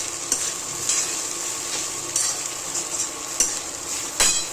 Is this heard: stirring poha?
yes